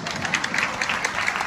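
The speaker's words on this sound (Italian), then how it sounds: "Merci beaucoup pour l'applaudissement spontané." An audience at an evening show of Roman stornelli singers in Lyon, France, gives steady, moderately loud applause, a continuous patter of many clapping hands filling the short moment.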